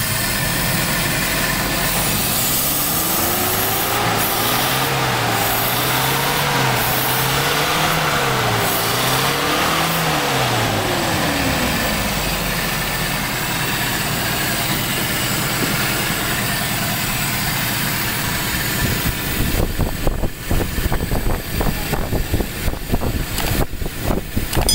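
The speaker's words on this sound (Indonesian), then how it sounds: "kita lanjut shoot Kijang yang menggunakan karburator sepeda motor" A Toyota Kijang engine fitted with a PE 28 motorcycle carburetor runs up and down through rising and falling revs, then settles near the mic into a rough, pulsing idle. No one talks.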